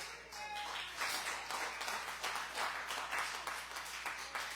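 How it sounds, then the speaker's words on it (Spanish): A church congregation applauds during a sermon, dense sustained clapping from many hands at steady moderate loudness, carrying on without pause throughout. "Y un aplauso a Jesucristo."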